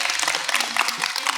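A studio audience on a Kyrgyz television talk show applauds, with dense, bright clapping close and continuous through the whole short burst.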